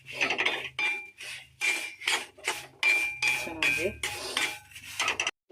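Semolina (rava) is roasted with raisins and cashews in a pan for kesari bath. Nine or ten rhythmic, gritty scraping strokes sound up close, and a voice briefly speaks near the middle.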